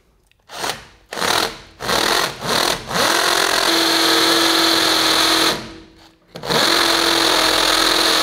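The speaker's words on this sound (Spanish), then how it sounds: "ahora lo taladraré con la definitiva de 10 hasta el fondo" A power drill drilling into a wall with a 10 mm bit whines in several short bursts, then runs steadily in two long sustained stretches, loud and close, with a brief pause between them.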